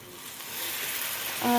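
Hot water poured into frying spiced oil for a Bengali katla fish madhukhira sets off a close, steady sizzle that swells louder near the end, while a voice briefly speaks.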